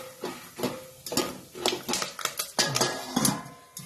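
Popcorn kernels pop inside a covered pan over high heat, irregular sharp pops and rattles scattered closely one after another.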